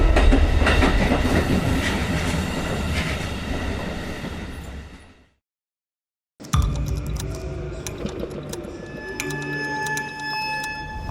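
A train rolls past at a railway station with a loud rumbling, clattering roar and metallic squeals. It drops to near silence for about a second partway through, then resumes with ringing wheel and rail tones.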